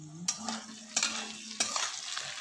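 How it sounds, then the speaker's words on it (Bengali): A spoon stirs potatoes with garlic and ginger paste in a sizzling pan, scraping across the pan three times in a short span over a soft, steady fry, close by and with no talking. "আবার নাড়াচাড়া"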